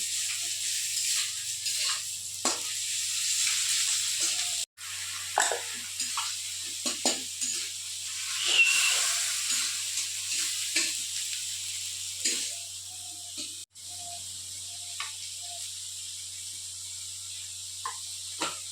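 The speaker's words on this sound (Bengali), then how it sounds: "এবার দেবো গার্লিক অ্যান্ড জিঞ্জার পেস্ট এবার গোল্ডেন ফ্রাই করে একদম ভেজে খাবো" Garlic and ginger paste frying in a pan after the onions, with a quiet steady hiss punctuated by scattered scrapes and taps of a spatula over about eighteen seconds.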